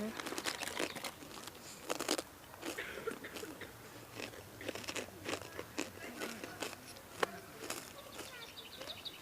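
Close, crunchy chewing with irregular crinkly bites and smacks, moderately quiet, continuing throughout with no talking.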